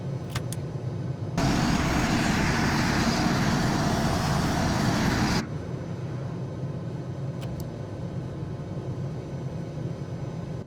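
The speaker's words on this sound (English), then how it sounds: "two Turbo Union RB199, MK101 and post-mod MK103 engines roaring to life" Twin Turbo Union RB199 turbofan engines of a Panavia Tornado jet in Microsoft Flight Simulator surge into a loud, broadband roar for several seconds, then drop back to a steady lower rumble.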